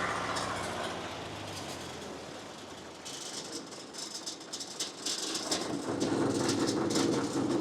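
A Miller Air Pak 400 engine-driven welder runs unevenly, struggling to idle, with a rattling mechanical clatter that shifts partway through into a harsher, louder knocking and whining, close by with no speech.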